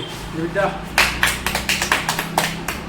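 Hands clap among schoolchildren: a brief murmur of voices comes first, then a quick run of sharp, close claps that slows and trails off irregularly.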